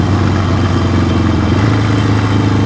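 Engine of a vintage Yamaha motorcycle, a 1971 XS1-B or 1972 XS2, runs steadily with a low, even throb while riding, loud and close throughout, with no clear gear-change break.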